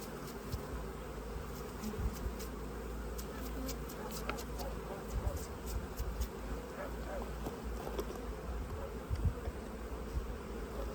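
Honeybees swarm around an open beehive during a rapeseed honey harvest, a dense close buzzing drone that fills the whole stretch with occasional louder passes of individual bees.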